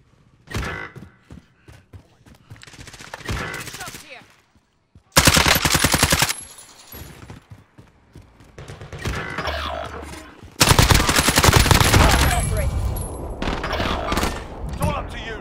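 Loud automatic weapon fire in the battle royale game Warzone comes in several long sustained bursts separated by quieter gaps, with bits of talk and softer game noise in between.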